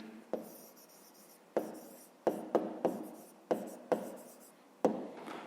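Pen strokes on paper while writing out a fraction answer to a fifth-grade maths exercise: a series of short, crisp scratching taps in irregular rhythm, close and fairly quiet, with no talking.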